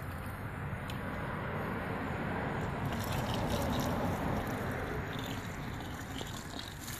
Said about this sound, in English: Just pour this right back on top of it.